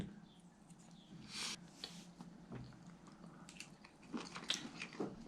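Faint close-up chewing of soft braised pork cooked in soybean paste, with small wet squishing and biting sounds scattered over quiet background.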